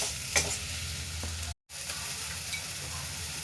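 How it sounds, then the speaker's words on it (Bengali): Ginger and chopped tomato fry in a pan, a steady sizzle with occasional stirring scrapes, close and moderately loud, broken by a brief moment of silence midway. "এবার একটু ভালো করে একটু ভেজে নেব।"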